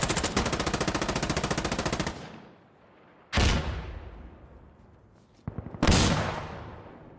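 Gunfire in the video game Arma Reforger: a fast automatic burst lasting about two seconds, then two loud single shots with long decaying echoes, a few seconds apart.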